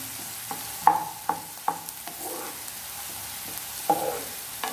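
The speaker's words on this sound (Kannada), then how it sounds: "ಶುಂಠಿ ಬೆಳ್ಳುಳ್ಳಿ ಎಲ್ಲ ಫ್ರೈ ಆಗ್ತಾ ಇದೆ" Chopped ginger and garlic frying in a pan for egg fry, a soft continuous sizzle broken by several sharp clinks and scrapes of a spoon stirring, close and without talk.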